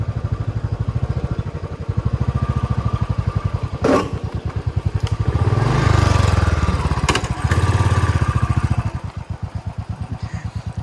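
A motorcycle with a battered, nearly broken rear silencer runs close by with a rapid, loud, throbbing exhaust beat that swells and eases as the throttle changes, then settles back toward idle.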